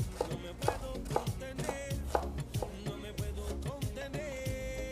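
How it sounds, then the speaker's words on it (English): A knife chops ginger on a cutting board in quick, steady strokes, sharp close thuds repeating alone with no voices, while the cook prepares vegan bean tacos. "So we first want to slice our ginger."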